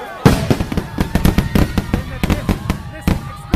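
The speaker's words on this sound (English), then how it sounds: "Listen, explosions." Explosion effects in a rap song about war in the city: a rapid run of loud, sharp firework-like bangs and crackles, close and dense, mixed with rhythmic vocal delivery.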